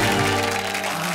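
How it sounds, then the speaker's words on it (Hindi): Studio audience applause on a televised Hindi comedy show, a dense, steady wash of clapping filling a short moment, loud and close with no talk over it. "जोरदार तालियां बजाओ।"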